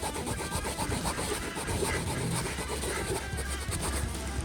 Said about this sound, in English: Just kind of rub it down.